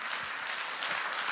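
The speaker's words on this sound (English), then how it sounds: "I don't know why you're clapping me" A conference audience at a tech talk claps, a brief, even burst of applause filling the room without a break.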